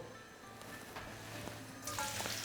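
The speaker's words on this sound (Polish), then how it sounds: "O, zaczyna się od razu smażyć." Chopped onion hits a hot wok and sizzles at once, a steady hiss of frying with a few clinks of stirring, close and moderately quiet.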